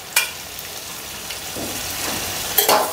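Cauliflower frying in a pan for a cashew and sesame cauliflower curry, giving a low steady sizzle with a few sharp clinks of utensils against the pan.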